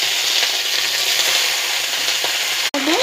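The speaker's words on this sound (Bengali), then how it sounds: "কড়াইতে সামান্য একটু তেল দিয়ে দেব এবং তেলটা একটু গরম হলে তাতে লাউ পাতাগুলো" Bottle gourd leaves fry in a little hot oil in a kadai, giving an even, close sizzle throughout, broken near the end by one sharp knock.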